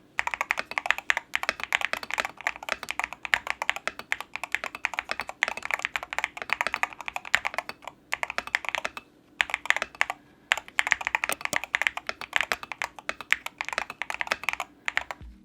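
Steady, rapid clacking of keys on a BOYI 66Pro magnetic-switch mechanical keyboard, close and continuous with a couple of brief pauses, no voices.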